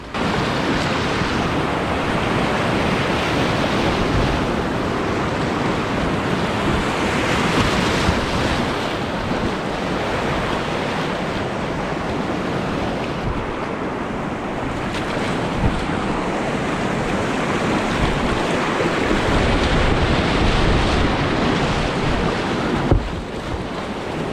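Rushing water of shallow, rocky whitewater rapids at low flow, heard during a kayaking run, roars steadily and close throughout with wind buffeting the microphone and no voices.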